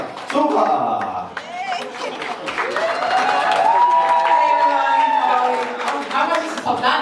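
Guests at a wedding reception applaud in a sustained burst lasting several seconds, with a voice and background music carrying over the clapping.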